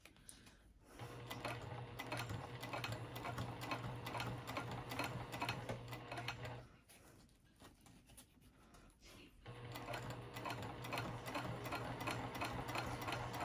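A sewing machine top-stitches a vinyl zipper pouch with a larger needle, a steady close whirring hum in two long runs separated by a short pause, fairly quiet overall.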